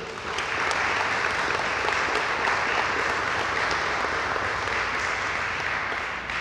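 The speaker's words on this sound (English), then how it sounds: "Give your parents a round of applause, because they deserve it." Sustained audience applause at a junior police academy graduation ceremony in Linden, clapping for parents and guardians, steady and dense throughout, with no talk over it.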